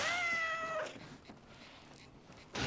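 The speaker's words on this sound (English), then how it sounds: "Did you hear a cat just now?" A single cat meows briefly in S.T.A.L.K.E.R. 2, a clear rising mew in the first second followed by quiet ambient game noise.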